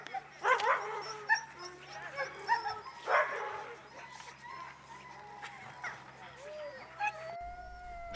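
Sled dogs at a kennel on Senja, Norway, yip, howl and bark in overlapping bursts, with a chorus of high howls carrying across the yard at moderate distance under a faint background hum.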